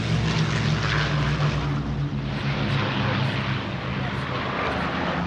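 A WW2 Avro Lancaster bomber passes overhead at an air show, its multiple propeller engines giving a loud, deep droning roar that holds steady throughout, with a voice briefly heard over it.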